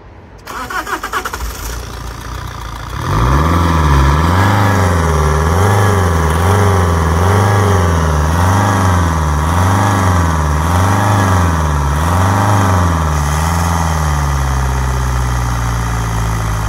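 A broken-down vehicle's engine cranks briefly, catches and starts, then settles into a loud, steady run with a regular pulsing rev that rises and falls before easing off.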